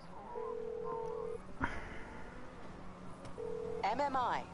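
A phone in GTA V dials out with two steady dial tones and a brief beep between them, while someone talks over it.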